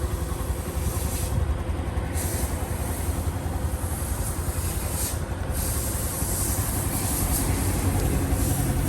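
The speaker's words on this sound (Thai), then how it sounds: "ก็ประมาณนี้ครับเครื่องยนต์ ถามว่าดังไหมผมว่ามันก็ปกติของเขานะ" A Honda Wave 110i motorcycle (2021) engine drones steadily throughout, loud and close, with a constant broadband rumble and no voices.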